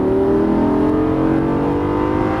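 A 530 hp Lamborghini Gallardo engine pulls hard on a track, a loud, close, sustained drone with rising harmonics and no break.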